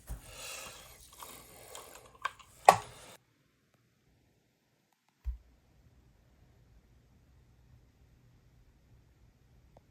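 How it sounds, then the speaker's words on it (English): The magazine comes out of a vz.58 rifle with brief metallic clicks and a sharp snap at close range, then a single soft thud, with near silence around them. "Take the magazine out and let's see."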